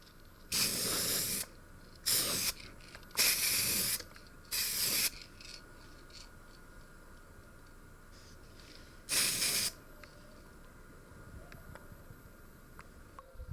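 Several short bursts of light ivory spray paint hiss from an aerosol can, four in quick succession and then one more after a pause, close and fairly loud over a quiet background, refinishing a Commodore 1541-C case.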